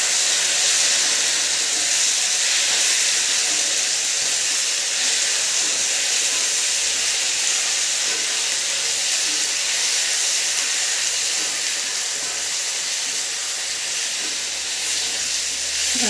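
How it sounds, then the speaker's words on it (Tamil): Chicken pieces sizzle in a hot pan, a steady bright hiss that holds evenly and loudly throughout with no voices over it. "இந்த ஸ்டேஜில் நம்ம சிக்கன் ஆட் பண்ணிடலாம்."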